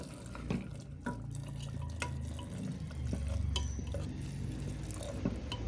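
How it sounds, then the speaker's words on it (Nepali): Water goes into a pot of mutton curry mixture, a soft liquid pour and slosh with scattered clinks of a spoon against the pot, quiet and close. "अब चाहिँ हामी यतिको मिक्स भइसकेपछि पानी एड गर्दिन्छौ"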